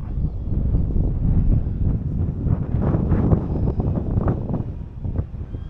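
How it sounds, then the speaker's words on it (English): Wind blows outdoors during an E-Flite Beechcraft D18 RC model plane flight, giving a continuous low rumbling buffet against the microphone, steady and fairly loud throughout. "Wind is picking up."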